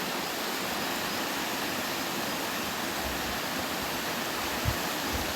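A waterfall roars in a steady, dense wash of rushing water that fills the whole scene at constant loudness, with a couple of faint low thumps near the end and no voices.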